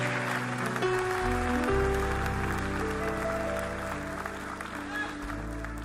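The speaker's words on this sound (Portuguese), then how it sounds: "Aplauda ao Senhor," A church congregation applauds during a live service while music plays, sustained keyboard chords and bass underneath a busy spread of clapping that carries on for several seconds.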